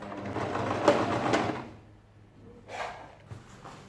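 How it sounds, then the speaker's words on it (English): A sewing machine runs in two short bursts, stitching along the neat folded edge of a ladies' shirt dress, with a pause between; close and moderately loud, no talking. "you place it on your machine and you're sewing just at the edge of that"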